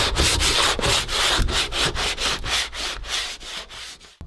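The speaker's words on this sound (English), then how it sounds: "with a bit of coarse sandpaper, because I want to scrape it back a fair bit" Coarse sandpaper on a wood block scrapes back the edge of builders bog filler in steady rhythmic strokes, about a dozen loud, close, gritty rubs with no talk.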